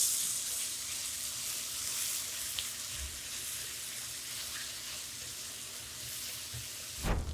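Ground meat browning in a pan for sloppy joe stuffed bell peppers gives a steady, fairly faint sizzle that continues unbroken throughout, ending in a brief louder clatter near the close.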